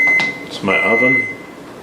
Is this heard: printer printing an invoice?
no